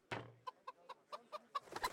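A chicken clucks in the video game Kingdom Come: Deliverance, giving a series of short, evenly spaced clucks that grow busier and louder toward the end.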